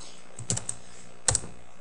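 Keys on a computer keyboard are typed in two short bursts of quick clicks, a few taps each, close and clear with a quiet background between them.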